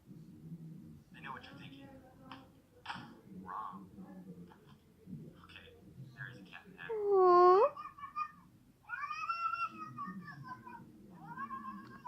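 A cat being sprayed with water meows and yowls in a drawn-out caterwaul, loud and close, while people talk throughout.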